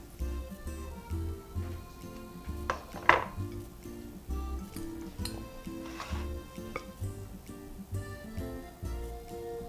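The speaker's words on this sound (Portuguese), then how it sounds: "Agora, para uma forma untada, eu vou transferir a massa e levar ao forno pré-aquecido a 180 graus." Orange cake batter scraped from a bowl into a greased baking pan, with repeated light metallic clinks and taps of utensil on metal, a sharper clink near the middle, no talking.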